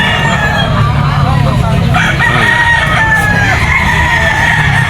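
Yellow-legged straight-combed stag rooster at a busy pet market crows loudly and nearby, with clucking fowl and a continuous background of market noise and voices.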